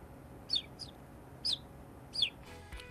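A person whistling bird-call imitations: four or five short, high, separate chirps with pauses between them, fairly close over a faint, quiet background.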